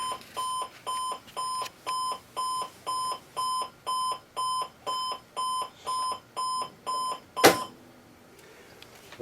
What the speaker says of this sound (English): Johnny is able to get up for another beautiful day thanks to his trusty alarm clock